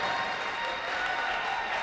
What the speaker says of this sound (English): Zimney will get an ovation